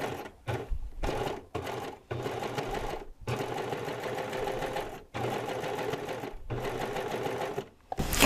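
A serger sewing and gathering lightweight fabric with a ruffling foot and increased differential feed runs in bursts of steady whirring stitching, separated by short pauses, close and clear.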